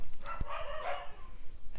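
Several dogs barking outdoors at night, a few sharp barks and yips heard from some distance, moderately loud against a steady background hum.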